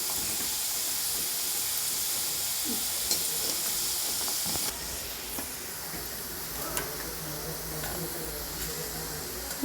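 Homemade gulab jamun frying in hot oil give a steady, loud sizzling hiss that fills the whole stretch, with a slight drop in level partway through.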